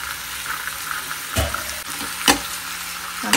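Mango pieces, green chillies and garlic frying in a small pan: a steady, loud sizzle throughout with a few sharp stirring clatters, no voices.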